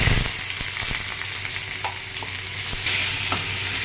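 Chopped onions with bay leaf frying in a pan for an egg tadka, loud close sizzling with scattered crackles and spatula taps, steady throughout with no voices.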